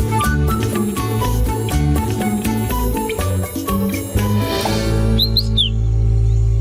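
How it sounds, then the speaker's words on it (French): Bright birdsong chirps flutter over a steady plucked, tinkling musical backing, with the tweets clearest near the end as the music settles into a sustained tone. "tu as un problème avec les chants d'oiseaux"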